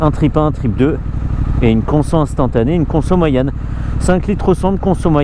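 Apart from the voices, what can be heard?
None of the usual background noises is heard.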